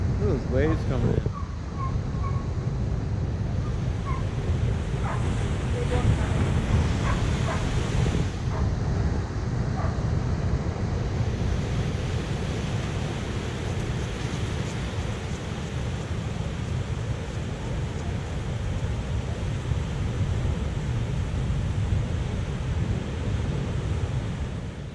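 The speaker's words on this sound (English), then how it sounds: "Look at those waves coming in." Ocean waves roll in at La Jolla beach, a broad continuous wash of surf mixed with heavy wind buffeting the microphone, loud and close throughout with voices briefly audible.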